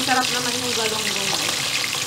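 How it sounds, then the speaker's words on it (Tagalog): Galunggong fish sizzling and frying in hot oil, a steady dense crackle held throughout, with a faint voice or tonal sound briefly over it at the start. "Iprito lang muna natin yung galunggong."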